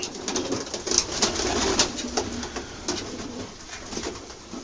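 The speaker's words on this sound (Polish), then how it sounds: "Tu jest następny gołębnik to jest następny gołębnik samczyk tutaj ten gołąb" Pigeons coo in a racing-pigeon loft, several soft repeated coos overlapping at close range with faint rustling and an occasional flutter of wings.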